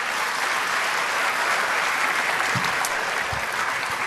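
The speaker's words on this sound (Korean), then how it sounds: "우리 환영의 박수로 환영하도록 하겠습니다" A church congregation at an early-morning prayer service claps steadily in welcome for the senior pastor, a dense, continuous wash of applause filling the room from start to finish.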